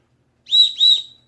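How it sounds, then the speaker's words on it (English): Two shrill, piercing blasts from a survival-kit emergency whistle in quick succession, each about a quarter second, loud and close against silence. "And it has an emergency whistle,"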